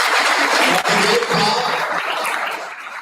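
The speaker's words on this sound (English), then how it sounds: "give a very loud applause for the panelists" Loud audience applause for panelists at a CXO conclave at a business school in Lucknow, a dense roar of clapping that gradually thins toward the end.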